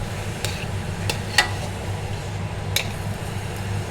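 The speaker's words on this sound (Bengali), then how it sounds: "এখন এটা ভালো করে আমি নেড়ে চেড়ে মিক্স করে একদম লো হিটে এটাকে বসিয়ে রাখবো চুলায়।" A spoon stirs boiled rice in a pot on a low-heat stove while achari khichuri is cooked, making a few soft, scattered scrapes and clinks over a steady low background hum.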